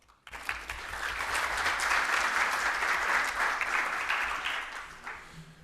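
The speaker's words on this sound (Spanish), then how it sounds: "Le brindamos un fuerte aplauso." An audience at a Peruvian electoral studies congress breaks into applause, a sudden burst of dense clapping that holds for several seconds before tapering off.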